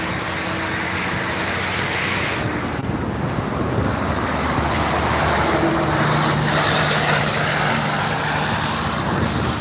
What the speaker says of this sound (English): Trucks be loud, man.